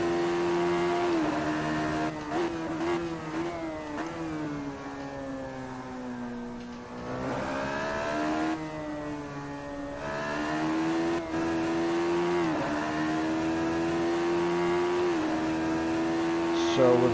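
A Radical SR3 race car engine drones in a racing video game at Imola, its pitch rising and falling through gear shifts and throttle changes with a continuous loud whine across the lap.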